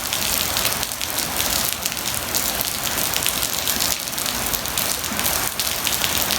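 Steady rain pours down in South Florida, a dense, even hiss of drops falling on surfaces with no pauses, heard alone without any voices.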